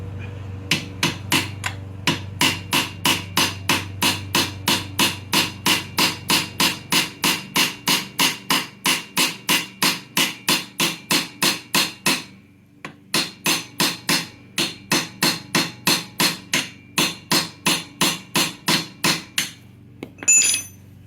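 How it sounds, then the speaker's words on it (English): A hammer strikes a chisel set against a weld on a seized 1979 Vespa P200E engine, in loud, fast, evenly spaced metallic blows. Two long runs are split by a brief pause, then a final knock. "I'm going to take a chisel. There's a weld right here. I'm going to use the weld to chisel up."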